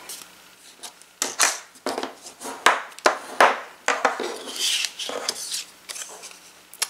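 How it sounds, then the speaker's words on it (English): A sheet of paper is folded in half by hand, giving a series of crisp creases and rustles with sharp taps of the fold being pressed flat, close and fairly loud. "and we fold it in half."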